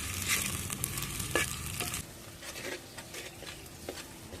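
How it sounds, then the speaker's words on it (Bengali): Sliced onions with whole garam masala and bay leaves fry in hot oil as they are stirred, a close, busy sizzle with scraping clicks that eases off to a softer crackle partway through. "কোচানো পেঁয়াজটা একটু নেড়ে চেড়ে ভেজে নিচ্ছি।"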